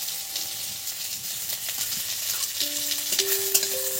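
Onions frying in a pan for masoor dal with bottle gourd produce a constant hissing sizzle with light stirring taps, and a few short electronic-sounding tones appear near the end; nobody speaks.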